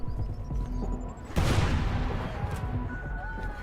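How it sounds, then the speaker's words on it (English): A grenade explodes in the Xbox 360 game Crackdown, a sudden sharp boom followed by a rumbling decay, heard amid other game sounds at moderate volume. "That's a grenade. Run away."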